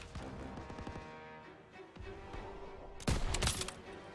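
Call of Duty: WWII battle gunfire from a stronghold assault on MG nests, distant rattling shots and rumbling blasts, then a loud close burst of fire near the end.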